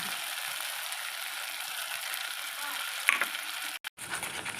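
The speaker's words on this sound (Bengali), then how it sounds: "তো সেটা নাড়তে নাড়তে মধ্যে নুন দিয়ে দেবো একটু চিনি দিয়ে দেবো দিয়ে আবার একটু নিয়ে নেবো মশলাটা একটু কষে নিয়ে" Spice paste fries in a pan for a Bengali vegetarian drumstick curry, giving a faint, even sizzle. A small clink of the spoon and a brief clatter break in near the end.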